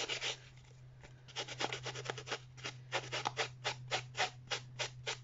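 Gilding flakes rubbed onto a handmade birthday card, a steady run of soft scratchy strokes, brief and faint at first and then firmer and rhythmic, close up over a low hum.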